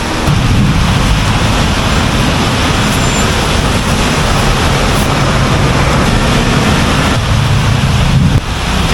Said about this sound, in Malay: Sudah hujan Karim.